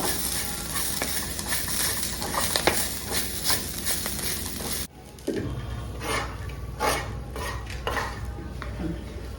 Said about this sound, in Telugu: బీరకాయ తొక్కలు కూడా వేగిపోయి ఉంటే తెచ్చి ఇందులో వేసి నూరుతా